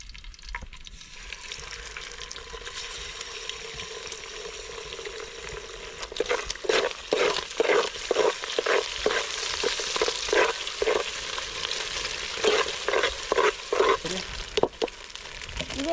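Eggs for egg fried rice sizzle steadily in a pan outdoors by a river and are stirred with a string of quick, close scraping strokes over the continuous hiss.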